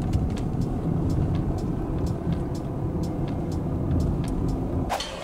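Cars move along a narrow, winding mountain road in the Sierra Nevada, heard as a continuous road rumble with repeated light ticks and a brief hiss near the end.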